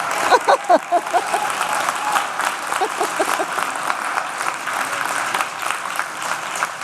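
A debate audience applauds and cheers for an NHS urgent care doctor, a dense steady clatter of many hands with a few sharp claps standing out at the start, continuing throughout.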